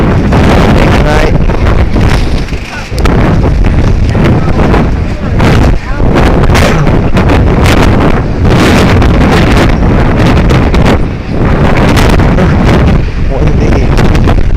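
Loud, strong wind roars and buffets the microphone continuously in Mykonos, Greece, a rough blustery rumble with brief lulls, voices faintly under it.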